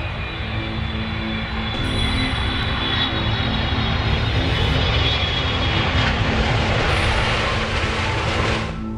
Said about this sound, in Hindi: उसके बाद वो प्लेन एक जगह पर लैंड होने लगता है